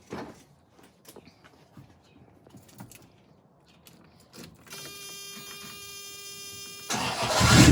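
A Porsche 928 race-build engine, louder than stock with the catalytic converters likely removed, cranks over a whining starter, then catches and bursts into a loud, close roar at the end.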